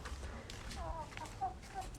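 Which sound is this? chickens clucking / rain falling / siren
chickens clucking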